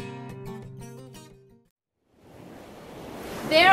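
After a short musical phrase and a moment of silence, ocean waves rise as a broad wash of surf noise, growing louder toward the end.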